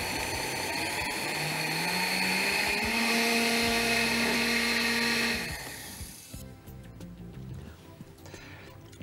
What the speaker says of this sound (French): Alors maintenant, on peut mixer. Bien sûr. On a versé dans le bol du mixeur.